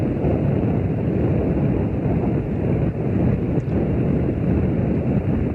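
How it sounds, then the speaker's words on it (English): The five rocket engines of the Space Shuttle Challenger give a continuous, heavy roar at its 1986 launch, a dense rushing rumble that holds steady throughout without any speech. "All 5 rocket engines burning well."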